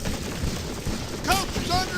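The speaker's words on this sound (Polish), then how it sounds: "Ostatni złoty strzał!" A gunshot fired in the video game GUN, a short sharp crack near the middle of the clip, heard over someone excitedly talking and steady game background noise.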